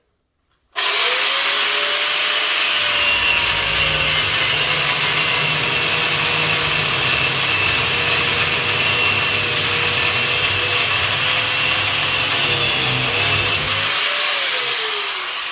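An angle grinder grinds steadily for about fourteen seconds with a harsh, loud, high whine and a gritty rumble, cutting through material outdoors at minus 12 degrees Celsius.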